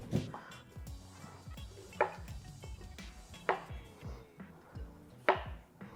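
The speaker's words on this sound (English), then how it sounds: "We're going to cut around the seeds." A knife cuts through a cucumber around its seeds on a board, making about four sharp, close chopping knocks spaced a second or more apart, with no talking.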